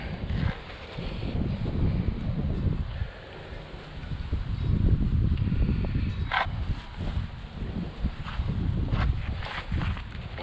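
Gusty wind buffets the microphone at a dock over water with current running, low rumbling surges that rise and fall, plus a few faint knocks and clicks.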